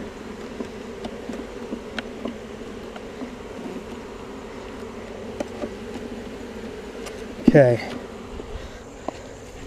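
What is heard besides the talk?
honeybees buzzing loudly in a queenless hive box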